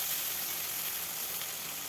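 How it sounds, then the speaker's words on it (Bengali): Prawns fry in mustard oil and are turned over in the pan, making a brief, steady hissing sizzle, close and moderately loud, with no speech. "সাবধানে এইভাবে উল্টে পাল্টে আমি ভেজে নেব।"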